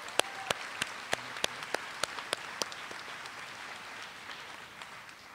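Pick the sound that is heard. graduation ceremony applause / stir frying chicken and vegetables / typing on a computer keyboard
graduation ceremony applause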